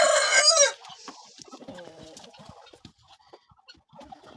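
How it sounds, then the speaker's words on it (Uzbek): A rooster crows loudly and close at the start, followed by softer clucking and scattered farmyard noises. "Bu Barnavella servis xo'rozimiz ham yaxshi chiqib qichqiryapti endi"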